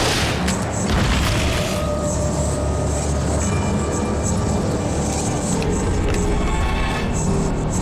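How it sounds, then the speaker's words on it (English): A flashbang in Alan Wake Remastered goes off as a loud, sustained roaring blast that stays dense and rumbling for several seconds, with a high ringing whine over it and no voices. "Flashbang. Flashbang again."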